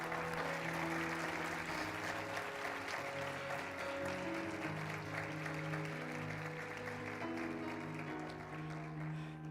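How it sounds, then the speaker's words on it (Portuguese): Congregation applauding at a church prayer service, steady sustained clapping from a large crowd throughout, with sustained tones of music playing underneath. "Você pode dar um aplauso ao Senhor pela vida dele?"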